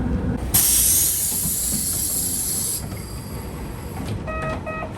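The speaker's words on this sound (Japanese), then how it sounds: "列車は近長駅に到着。" A train pulls into Chikanaga Station in Shikoku with a loud hiss of air brakes and rumbling wheels, followed by faint squeals and a short chiming signal near the end.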